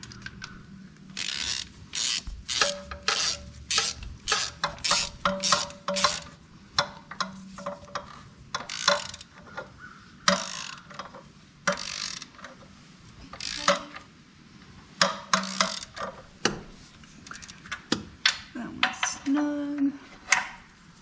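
Ratchet straps are cranked tight to secure a motor, producing repeated sharp metallic ratcheting clicks in irregular bursts, close and fairly loud, with a brief low vocal murmur near the end.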